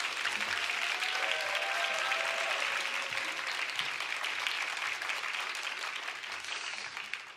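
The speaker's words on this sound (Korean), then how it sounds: "박수로 웰컴하겠습니다." A church congregation at a Sunday service applauds to welcome a guest speaker: dense, steady clapping from many hands fills the room, holding level for several seconds before tapering off at the end, with no talking over it.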